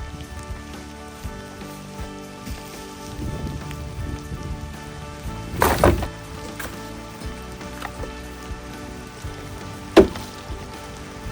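Steady heavy rain pours down around a run-down property under repair, a dense continuous wash of drops with a few louder knocks and splashes close by.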